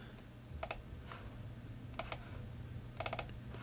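A computer mouse is double-clicked: quiet, crisp clicks come in three small clusters a second or so apart, over a faint room hum, with no talking.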